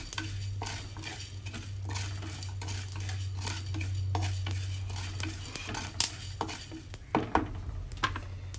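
Cardamom and whole spices frying in a clay pot, a steady soft sizzle with scraping stirs and a few sharp pops or clinks toward the end.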